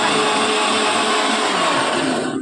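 A mixer grinder grinds green tomatoes with no other ingredients, a loud steady whirring motor roar running continuously and close, with no talking.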